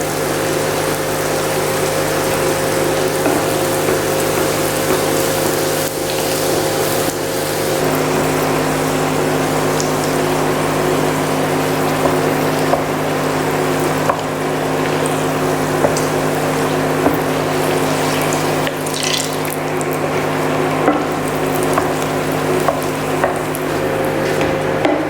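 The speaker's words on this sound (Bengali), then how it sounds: "এবার আমি বাকি পাঁপড়গুলো সেমভাবে ফ্রাই করে নেব" Papad frying in hot oil gives a steady, dense sizzle and crackle that carries on for the whole stretch beneath a faint low hum, with nobody speaking over it.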